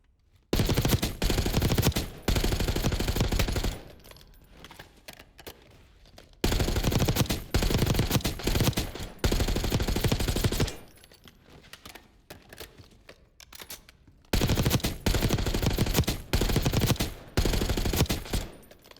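Machine gun fire from Call of Duty: Black Ops 6 comes in three long, loud bursts of rapid automatic shots, each broken by brief quiet gaps, with no speech.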